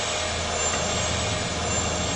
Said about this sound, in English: Those engines sure ain't at full power.